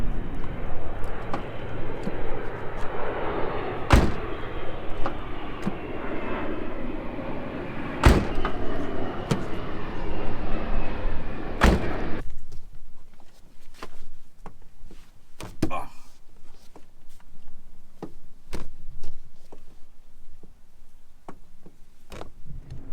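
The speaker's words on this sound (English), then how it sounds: "the doors on all these JDM cars are notorious for not staying open. They just close and slam shut." A Nissan R34 JDM car door swings shut on its own and slams, three sharp, loud bangs spaced a few seconds apart over a steady broad rumble that drops away after the third slam.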